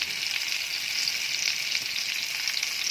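Stuffed parwal kalonji fries in an oiled pan, producing a constant, hissing sizzle that stays close and even for the whole stretch, with no speech over it.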